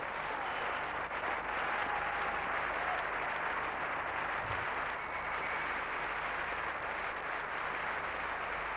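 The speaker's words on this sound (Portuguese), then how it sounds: "Vamos dar a eles mais uma salva de palmas" Steady audience applause at a 1992 faith convention in a large hall, a dense, even wash of clapping from a big crowd, sounding somewhat distant and continuous throughout.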